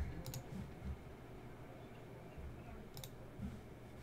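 Computer mouse clicks, used to switch off Discord sounds, come as a few sharp, quiet taps, a pair near the start and another pair near the end, over faint background.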